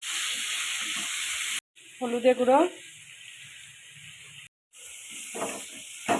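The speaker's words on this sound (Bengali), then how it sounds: "কড়া বসিয়ে তেল দিয়েছি আলুটা ভেজে নেব" Potatoes frying in hot oil in a wok give a steady, close sizzle and hiss. Near the middle it cuts out briefly while a voice speaks over it, then the sizzle returns.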